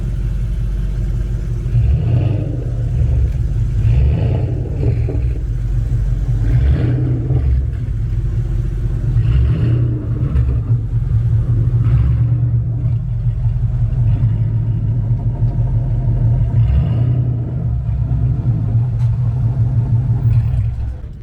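A Ford Mustang engine at a car show gives a loud, steady low rumble throughout, with a few rises in pitch that suggest light revving, and no clear talk over it.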